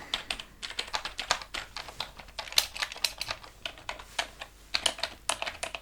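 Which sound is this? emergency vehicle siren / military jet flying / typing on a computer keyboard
typing on a computer keyboard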